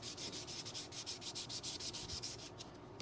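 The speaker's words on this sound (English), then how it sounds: "So I've got some 2000 grit sandpaper here, which will get it almost almost mirror finish." Metal stamp rubbed on 2000-grit wet-dry sandpaper, a steady close scratchy sanding with regular back-and-forth strokes about four per second, loud and continuous with no voices.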